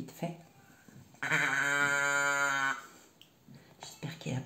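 Cow moo box toy tipped over, giving one drawn-out, buzzy mechanical moo lasting about a second and a half, with soft handling noises before and after.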